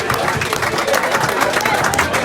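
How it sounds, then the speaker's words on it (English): A crowd claps and cheers steadily at a football club's end-of-season presentation for the March Player of the Month, with a dense, continuous wash of hand noise from a packed room. "Big round of applause for Martin."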